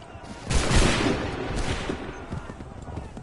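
Soldiers in Assassin's Creed 3 fire a musket volley as one loud, rolling crackle of shots that rumbles and fades, with shouted voices mixed in.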